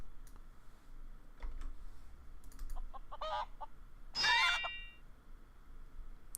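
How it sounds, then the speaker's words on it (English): A chicken in the online role-playing game Ultima Online gives a short, sharp cluck amid scattered quiet ticks and clicks, fairly faint overall, with one louder squawk standing out near the end. "Can we kill a chicken?"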